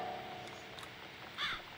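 A single crow caws once in the video game The Cat Lady, a short harsh call heard fairly clearly over a quiet, dim ambient background.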